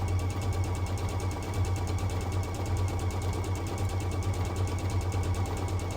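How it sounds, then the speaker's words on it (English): A sewing machine stitches fast in a straight line with the speed set high, giving a steady, even, rapid mechanical whir and tapping rhythm that runs unbroken throughout. "So then you can just really put the pedal to the metal with this, because you're basically just stitching in a straight line."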